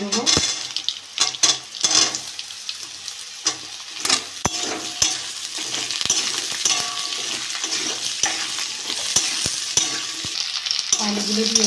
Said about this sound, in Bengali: এবার আলুগুলো দিয়ে দেবো